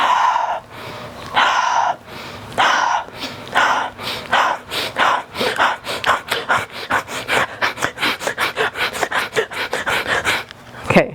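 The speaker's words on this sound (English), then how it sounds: "inhaling through the nose" Yoga breathing exercise with repeated nasal inhales and mouth exhales, starting slow and speeding into a quick, rhythmic series of close, breathy pulses, loud and alone.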